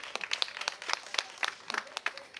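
Audience applause at a live music show, scattered hand claps rising and falling in irregular bursts, fairly close, with no talking over them.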